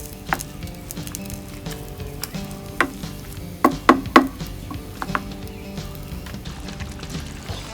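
Meat, onion, oil, garlic and chili powder fry on a griddle with a steady close sizzle, broken by a few sharp clicks and scrapes of a utensil near the middle.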